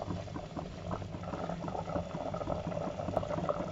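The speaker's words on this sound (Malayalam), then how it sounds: "അത് കഴിഞ്ഞിട്ട് ഞാനൊരു 2-3 മിനിറ്റ് കൂടി തിളപ്പിച്ചു." A pot of Kerala-style mango pulissery curry bubbles at a steady boil, with continuous close gurgling and popping and no voices.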